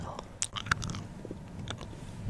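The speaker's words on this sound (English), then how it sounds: "I just popped in a chewing gum." Chewing gum worked close to the mic in a quiet ASMR setting, with irregular wet smacks, clicks and soft crunchy bites scattered over a low, hushed background and no speech.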